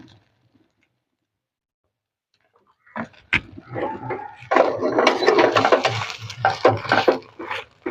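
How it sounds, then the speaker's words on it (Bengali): Egg roll sizzling in a little refined oil in a pan, a roll flatbread laid over it, fried on both sides; crackling, bubbly frying starts after a quiet stretch, with clattering bumps of handling and utensil contact. "দুপাশটা খুব সুন্দর করে ভেজে নেব"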